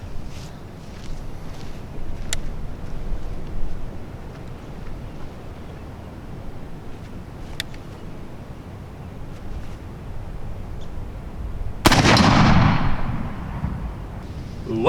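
An Enfield-type black powder musketoon at a Civil War cavalry shooting match fires one powerful boom that rolls away slowly across open ground. It follows a long stretch of faint outdoor ambience with a few distant clicks.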